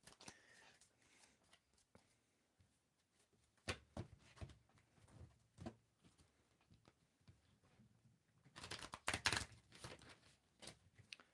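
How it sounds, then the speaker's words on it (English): Tarot cards are shuffled by hand during a reading, heard as close, irregular riffling and soft slaps, scattered bursts with a denser flurry near the end, with quiet gaps between. "tell me when to stop shuffling"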